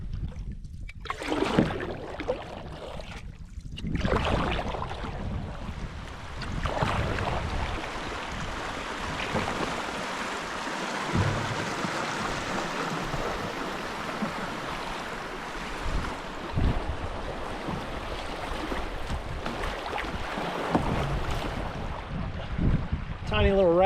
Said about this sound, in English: Tiny little rapid there, nothing too crazy.